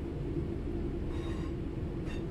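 A BR Class 323 electric train pulling into Manchester station in Train Sim World 3, with a steady low rumble of wheels and motor throughout and faint higher squeals late on, no talking.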